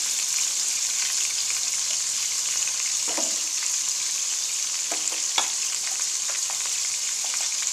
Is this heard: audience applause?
no